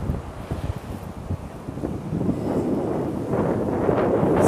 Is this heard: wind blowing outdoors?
yes